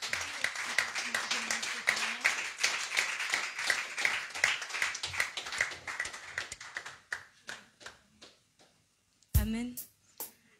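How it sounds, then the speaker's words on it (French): A church congregation claps in praise to the Lord, a dense run of hand claps that gradually thins and fades out, with a few louder claps at the end. "Est-ce que tu peux encore acclamer le Seigneur?"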